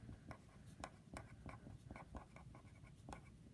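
Marker or chalk strokes on a classroom board while the law of sines is written out, a series of short scratchy taps and squeaks in uneven rhythm, close and fairly quiet.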